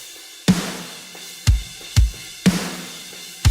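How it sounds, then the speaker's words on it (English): A drum mix for a rock/metal track plays sparse, punchy hits, with a sharp snare crack and low kick thumps landing roughly every half second. The hits are loud and close, with nothing else playing. "So I have my drums here"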